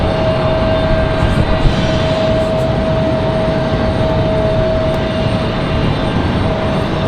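An American Airlines Airbus A321 arriving from Philadelphia at Raleigh-Durham airport, a loud steady jet engine roar with a high whine, sustained throughout with no talking.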